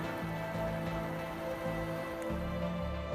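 Rain falls steadily in misty Scottish Highland mountains, a soft continuous patter on surfaces, faint and even throughout, with no voices.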